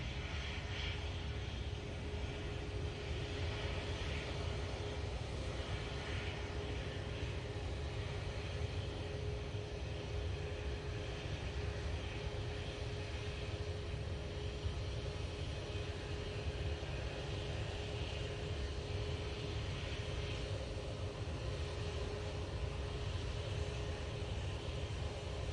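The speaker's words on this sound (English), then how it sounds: "A320 Neo." An Airbus A320neo airliner at Manchester Airport produces a long, steady jet roar with a faint whine, heard from a distance and holding an even level throughout without talk.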